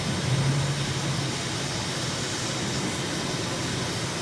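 Aircraft engine in a flight simulator climbing out after takeoff: a steady, loud broadband roar with a low drone, continuous and unchanging throughout.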